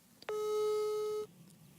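Single long steady electronic tone with harmonics, about a second long, loud and clear, the ringback heard when dialing a mobile phone, alone without talk.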